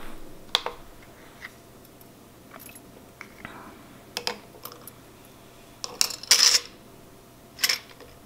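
Scrap 18 karat gold jewelry set down on a scale, giving scattered close metallic clicks and small clinks, with a couple of louder jingling clusters near the end.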